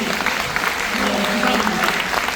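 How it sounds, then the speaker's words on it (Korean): A church congregation claps during a sermon, a steady, dense round of applause filling the room with a murmur of voices beneath it. "요것만 가도 박수 한번 치시죠."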